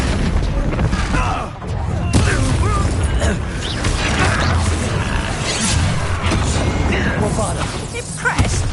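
Repeated Bombarda blasting-spell explosions in the Hogwarts Legacy video game crash and boom through a dense, loud battle mix, with several sharp impacts among constant rumble and clatter.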